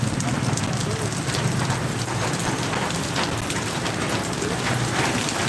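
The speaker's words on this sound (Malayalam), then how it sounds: "ഇവിടെ ഭയങ്കര മഴയാണ് അനുഭവപ്പെടുന്നത്" Heavy rain in Kottarakkara, Kerala, pours down in a dense, constant hiss, loud and close, with no pause throughout.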